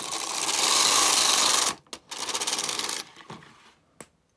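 A knitting machine carriage runs across a row of a sweater shoulder being short-row shaped: a loud, fast mechanical rattling pass for about two seconds, a brief pause, then a second shorter rattling run that fades, ending with a single click.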